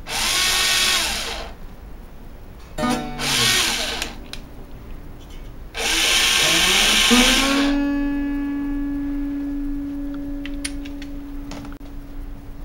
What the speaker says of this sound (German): das hier ist ein Planet Waves Aufsatz für Bohrmaschinen